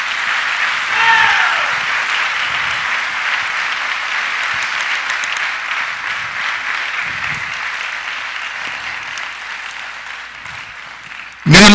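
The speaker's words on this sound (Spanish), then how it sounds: "Démosle un fuerte aplauso a nuestro Dios." A church congregation gives loud, sustained applause in praise, a dense wash of many hands clapping steadily for about eleven seconds before ending abruptly.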